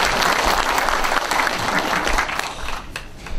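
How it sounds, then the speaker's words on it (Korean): An audience at a book concert breaks into strong applause, many hands clapping densely and loudly for a few seconds before it thins out and fades. "한번 여러분 박수 한번 보내주십시오."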